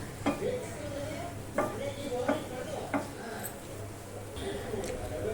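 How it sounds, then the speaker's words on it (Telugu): Sweet corn is stirred in a pan over a low flame, a spatula scraping and knocking against the metal in a slow, irregular rhythm above a faint, soft sizzle. "ఇంకా సిమ్లో పెట్టి మనం ఇలా మిక్స్ చేసుకుంటూ ఉండాలి."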